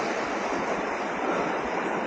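River water rushes steadily, fed by a waterfall just behind, where a hanging bridge crosses near houses. The roar is loud, continuous and close, with no voices.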